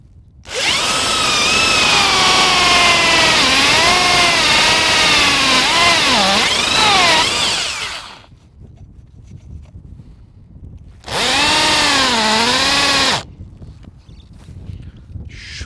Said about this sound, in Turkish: Şimdi yapacağım iş matkapla gövdeyi 45 derecelik bir açıyla delmek.